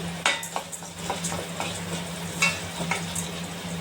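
Urad dal and chana dal frying in hot oil for a drumstick pickle tempering, a steady sizzle with a low hum beneath and scattered spoon scrapes and stirring clicks in the pan.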